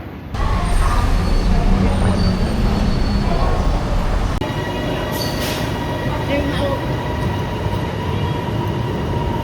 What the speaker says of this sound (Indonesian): kita mau cobain naik kereta